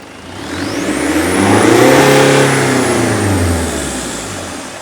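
A converted car engine strapped to a pallet revs up from idle, climbing to a loud, high-pitched peak around the middle, holding briefly, then easing back down, close and alone with no talk.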